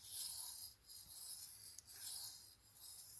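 A tanto knife is sharpened freehand on a whetstone with gentle forward and backward strokes, giving soft, steady, hissing rasps in a regular rhythm, close and quiet, with no talking.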